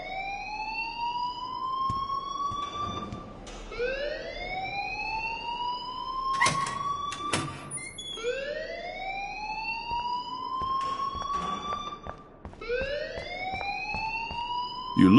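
An alarm in the video game Life is Strange wails in repeated rising whoops, each sweep climbing in pitch, with a few sharp clanks in between.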